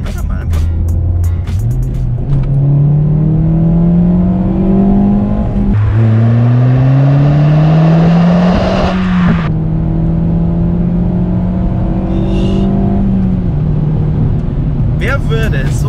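A small 1.6-litre four-cylinder Alfa Romeo 147 engine revs hard and loud, its pitch climbing steadily through several gear changes, each shift briefly dropping the tone before it climbs again.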